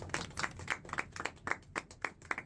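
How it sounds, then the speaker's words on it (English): Applause rings out after a correct answer in a vocabulary quiz game, a steady patter of clapping hands with quick rhythmic bursts, moderately close and without talk. "Round of applause"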